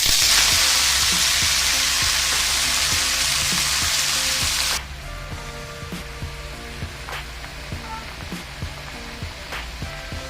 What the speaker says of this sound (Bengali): তেল দিয়ে দিলাম লঙ্কা ফোড়ন পাঁচ শাকটা এর মধ্যে দিয়ে দিচ্ছি